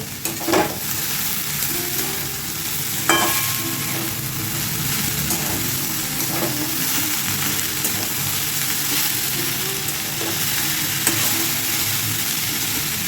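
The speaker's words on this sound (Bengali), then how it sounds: "ভেটে নিচ্ছি এবার" Something stir-fried in a hot pan during the making of a drumstick-flower curd and cumin dish, a loud continuous close sizzle with occasional scrapes and knocks of a spatula against the pan.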